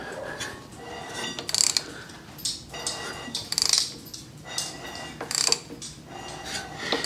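Engine of a 1953 GMC, spark plugs out, turned over slowly by hand through one full revolution: repeated metallic clicking, ratcheting and scraping bursts in an uneven rhythm, close by, with some quiet background noise.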